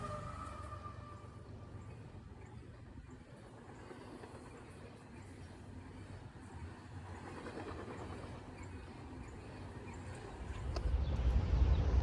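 I-168 double-stack intermodal freight led by a GEVO locomotive with another GEVO mid-train, passing through Berea; a steady low rumble and rolling rail noise hold throughout, swelling louder near the end as the train draws closer.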